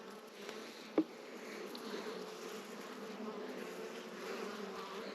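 Honeybees buzz steadily throughout an opened beehive during a week-three inspection, a close, continuous drone with one brief louder knock near the start and no talking.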